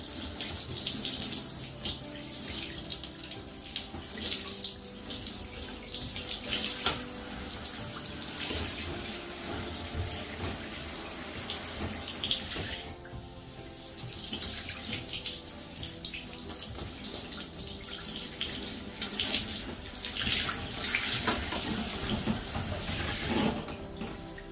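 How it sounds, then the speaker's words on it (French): Water runs steadily from a bathtub tap while hair is rinsed, a continuous broadband rush that shifts slightly as the flow is interrupted by hands and hair, with no talking over it. "Bon, allez, je me rince les cheveux."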